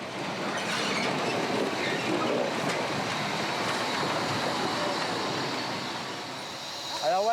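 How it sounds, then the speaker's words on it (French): A historic steam locomotive, in service since 1903, runs on a restored 1891 railway line, a loud steady rumble and rattle of wheels and carriages passing close, with a squeal near the end and a voice talking over it. "Cette locomotive est classée monument historique."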